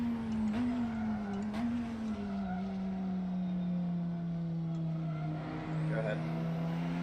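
A race car engine in the Assetto Corsa driving game on a snowy track, a steady droning tone that rises and settles slightly as it holds revs, fairly loud and continuous with no talk.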